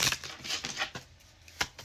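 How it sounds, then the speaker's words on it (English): A deck of cards being shuffled during a tarot-style reading, with soft riffling bursts and a few sharp snaps, recorded close and alone at a low level. "Let's go ahead and give this deck some shuffles"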